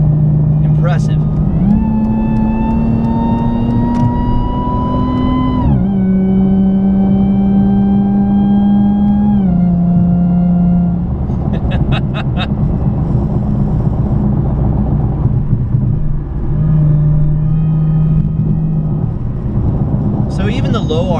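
Sprintex-supercharged Pentastar V6 in a Dodge Challenger accelerating through gears, a loud, close cabin drone rising in pitch, dropping at each shift and climbing again, with a speaking voice over the engine.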